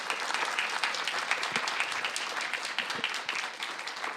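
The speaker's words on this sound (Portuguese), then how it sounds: "Aplausos mais do que merecidos, né?" An audience at an artist's lecture on three-dimensional poetics gives warm, sustained applause, a dense steady patter of many hands clapping at moderate loudness with individual sharp claps standing out.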